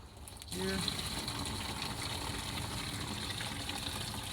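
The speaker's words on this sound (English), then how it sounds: "So I'm going to turn this water on, and we'll start filling it up" A hose pours steadily into a rain barrel fitted with a sump pump, a constant close rush of running water that starts abruptly and continues without a break.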